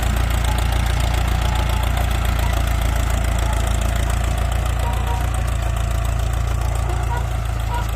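A Ford 6640 tractor runs at low rpm while working a sugarcane planting field in hot sun, giving a steady, loud, low engine drone with a slight knocking throb that holds unchanged throughout.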